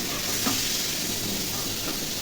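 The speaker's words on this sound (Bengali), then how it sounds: "এদিকে আমি চিংড়ি মাছ একটু ভেজে নিচ্ছি" Prawns frying in a pan for a malai curry, a dense, loud, continuous hiss of hot oil, close up and unbroken, with no talking.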